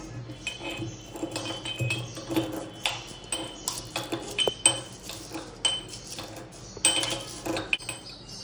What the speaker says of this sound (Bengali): লঙ্কা আর পাঁচফোড়ন তো সেটা আমি গুঁড়ে নিচ্ছি হামানদিস্তাতে করে।